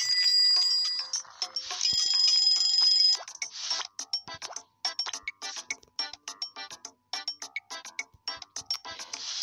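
Bicycle-style bell rings in the video game Papa's Scooperia To Go: long sustained ringing at first, then a rapid run of bright metallic dings and clinks, loud and close, with no talk.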